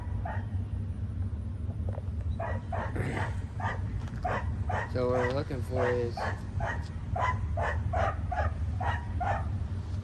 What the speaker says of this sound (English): that's a dog in the background